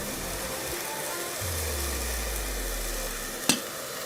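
Bracken fern (gosari) stir-fried in a pan with soy sauce makes a continuous loud sizzle with a low rumble underneath and one sharp clack near the end, with no voices.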